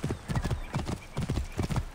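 Horse hooves clip-clopping at a steady gallop in Assassin's Creed Origins, loud and close, with repeated rhythmic bursts of hoofbeats and no talking.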